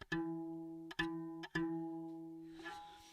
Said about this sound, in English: the single string guitar sounds like this.